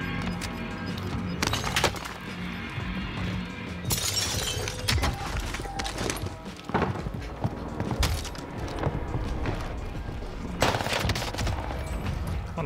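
Gunfire in an online shooter video game, with scattered sharp shots and short bursts of automatic fire cracking through a busy game soundscape, some close and some more distant.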